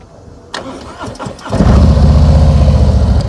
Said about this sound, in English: Obviously, we start the motorcycle.